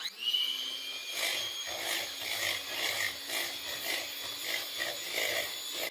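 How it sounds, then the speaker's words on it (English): Cream and vanilla mixture being whisked, a close motorized whirr with a rhythmic pulsing swish as the whisk moves through the bowl, continuing for several seconds with no talking. "So I'm gonna whisk it one more time."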